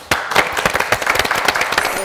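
Sudden burst of loud applause from a studio audience on a family game show, crisp dense clapping starting abruptly and continuing steadily close by.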